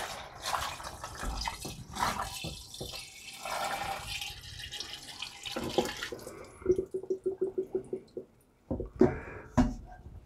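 Banana and strawberry wine must glugs and splashes as it is poured into a one-gallon jug, an uneven run of gurgles ending in a quick string of bubbling glugs and a few last splashes.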